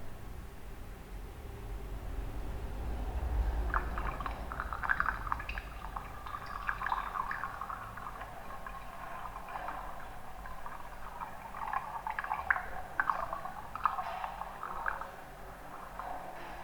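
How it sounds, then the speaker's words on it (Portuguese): Water is poured into a container up to a marked line, a soft continuous trickle and splash that rises and falls over a hiss of background noise, close and fairly quiet. "e colocado a água novamente nele até o ponto de aferição"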